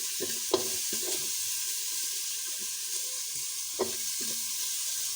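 Spices fry in hot oil with a soft, even sizzle while a spatula scrapes the pot in a few separate strokes, close up, while chana dal khichuri is prepared.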